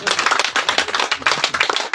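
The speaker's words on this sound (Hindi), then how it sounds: "अब देखो कैसे तालियां बजेंगी।" An audience at a yoga conference in Almora, Uttarakhand claps energetically, with rapid, dense hand claps close by, forming uneven bursts throughout.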